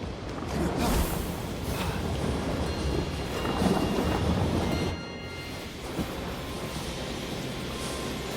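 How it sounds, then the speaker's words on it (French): Thunder from Zeus's lightning rolls loudly through Immortals Fenyx Rising, a dense sustained rumble with rain-like hiss that drops slightly in level partway through, with no speech. "Une réplique de la foudre de Zeus?"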